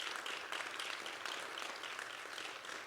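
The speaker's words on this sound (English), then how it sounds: "If you would join me in giving a round of applause for Dr. William G. Anderson." An audience at an evening lecture event claps in steady, sustained applause, heard fairly faintly as an even wash of many hands throughout.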